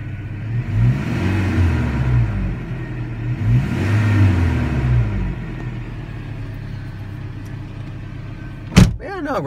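A 2000 Toyota Tacoma 4x4 with a 2.7 engine and five-speed idles smoothly, its engine rising in two gentle revs before settling back to a steady run, close by, followed by a sharp knock near the end.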